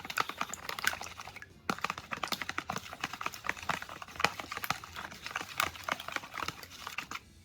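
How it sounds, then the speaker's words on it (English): Three extra-large room-temperature eggs being lightly beaten for a pecan pie filling, giving a quiet, steady run of rapid whisk or fork taps against the bowl with a brief pause early on and no talking. "We're going to add in 3 extra large eggs at room temperature. Going to lightly beaten them."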